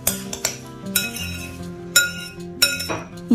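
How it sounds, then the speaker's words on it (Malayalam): Spoon clinking against a glass or steel bowl while mixing chopped fruits for a hot, sweet and sour mustard mixed fruit pickle; six or seven bright, close metallic clinks at uneven intervals, with no talk. "ഇനി അരിഞ്ഞിട്ട് ഈ ഫ്രൂട്ട്സ് ഒക്കെ നമുക്ക് നന്നായിട്ട് സ്പൂൺ കൊണ്ടൊന്ന് മിക്സ് ചെയ്തെടുക്കാം."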